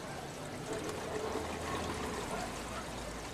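Water gurgles and trickles steadily inside an automatic pool chlorinator, a continuous bubbling wash with no distinct breaks, close and moderately loud.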